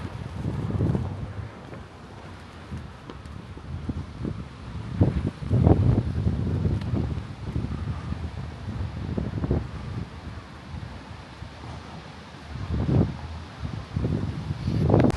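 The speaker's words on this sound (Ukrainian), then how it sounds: "сильніший вітер застав" Gusty wind on the Gdynia coast near Orłowo buffets the microphone, a rough low rumble that surges and fades in uneven bursts over a constant outdoor whoosh.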